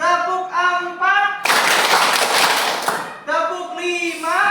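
Children in a classroom clap their hands in a counting clap game, a dense burst of loud claps lasting over a second between stretches of chanting voices.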